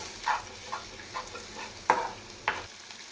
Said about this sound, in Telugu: కరివేపాకు వేసుకోవాలి కొంచెం వెల్లుల్లి పేస్ట్ కొద్దిగా పసుపు వేసుకోవాలి ఇప్పుడు దీన్ని కొద్దిగా కలుపుకోవాలి